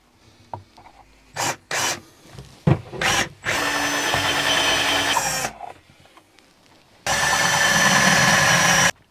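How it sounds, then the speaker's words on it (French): Power drill boring out a 10 mm hole in a camper van panel, whirring in short bursts then two long sustained runs with grinding, rasping texture, close and loud. "j'essaye d'agrandir un peu le trou parce que là je perce à 10"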